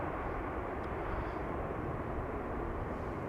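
A Singapore Airlines Airbus A350 jet taking off from Amsterdam Schiphol Airport, a deep, steady engine rumble heard from a distance, continuous and fairly faint, no talking.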